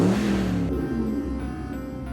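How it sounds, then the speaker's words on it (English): A road vehicle's engine revs and holds a steady drone, loud and close, the pitch sliding slightly as it runs for a couple of seconds with no voices. "Sounds like my truck."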